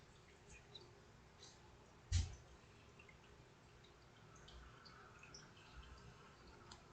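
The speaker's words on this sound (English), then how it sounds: "the dripping noise is my water fountain" Water dripping from a pet water fountain indoors, faint and sparse, with a few soft drips and one sharper click-like drop over a quiet background.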